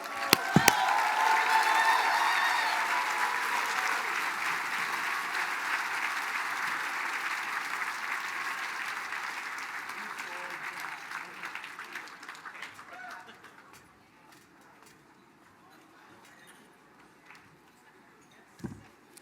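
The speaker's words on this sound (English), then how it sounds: "Let's give another round of applause for our Chief Executive, Virgil Wind" Audience applause at the Mille Lacs Band of Ojibwe State of the Band program, a large crowd clapping loudly for many seconds with a few sharp claps near the start, then tapering to scattered quiet claps.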